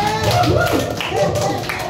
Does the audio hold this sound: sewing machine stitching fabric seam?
no